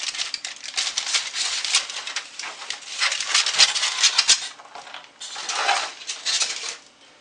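Knife slicing through smoked babyback loin ribs, giving continuous scraping, crunchy cutting noise in bursts over several seconds, close and moderately loud.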